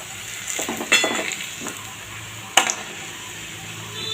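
Onions frying in a pan until reddish-brown give a continuous crackling sizzle, with a few metallic clinks of a spatula against the pan and no talking.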